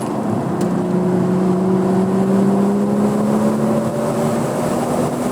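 A 2016 BMW M2 on a track revs steadily upward, a continuous rising engine whine over rumbling road and wind noise, loud and close with no talk.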